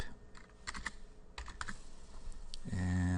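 Computer keyboard keys tapped in short irregular bursts, a few quick clicks at a time, close and fairly quiet, with no voices.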